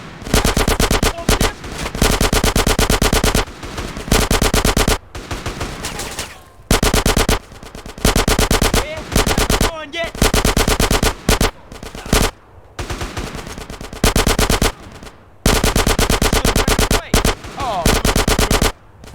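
Gunfire in the video game GTA San Andreas: loud, rapid automatic bursts in repeated volleys, separated by brief gaps.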